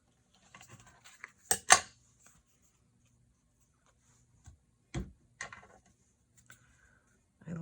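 Scissors snip through card while making playing card pockets: a few sharp, close cutting clicks early on, then quiet, followed by sparse single snips and faint handling noise.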